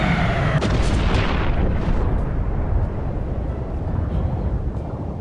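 Drop chutes deploying in the Aviassembly flight-building game make a loud, booming rush of sound that fades into a sustained low roar over several seconds.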